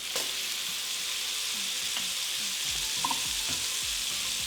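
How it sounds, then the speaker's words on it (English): Wagyu burger patties hit a hot pan greased with melted bone marrow, giving a loud, continuous close sizzle and spatter with a few faint scrapes. "All right, let's put in our burgers."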